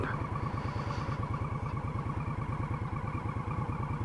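Steady rhythmic engine thrum from a 2018 Indian Scout Bobber motorcycle being ridden after its 500-mile oil change, a continuous loud pulsing drone with even firing beats and no speech.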